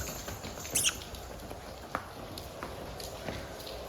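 Soft, steady patter of light rain falling close by, with scattered small ticks and drips over a continuous faint hiss; no one speaks.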